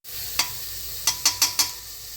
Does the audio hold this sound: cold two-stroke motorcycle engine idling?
no